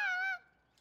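A duck honks once in the Lost in Play video game, a single loud, nasal honk of about a third of a second that fades into quiet.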